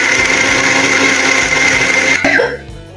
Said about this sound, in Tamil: மிக்சியில் போட்டு அரைக்கிறோம்